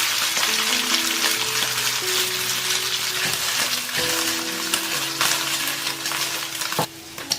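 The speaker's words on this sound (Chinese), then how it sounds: "接着起锅热油，把鸡胸肉放进来煎香。" Chicken breast pan-frying in hot oil, a continuous crackling sizzle with a few utensil clicks and faint tonal hum in the background, no talking.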